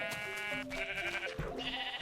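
Sheep in the early Minecraft video game bleat repeatedly in a loud, close series of wavering game cries with no talk over them.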